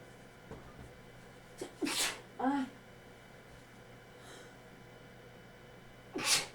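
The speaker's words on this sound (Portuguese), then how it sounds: "tô espirrando, mas não é o Covid não" Someone suffering from allergies sneezes indoors several times in succession, with sharp bursts around two seconds and another near the end, separated by quiet breathing and close to the microphone.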